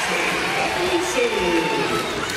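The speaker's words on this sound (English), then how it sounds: "the Eagles fans who have made the trip are up and cheering behind their bench" Eagles supporters cheer from behind their bench at an NCAA women's second-round basketball game, Florida Gulf Coast against Maryland, a steady crowd roar filling the arena under continuous commentary.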